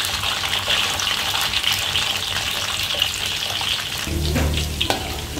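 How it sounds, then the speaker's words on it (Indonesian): Jengkol beans fry in a pan for balado jengkol, giving a loud, steady sizzle and crackle that runs unbroken throughout, with a slight low rumble near the end and no talking. "Pertama kita goreng jengkolnya."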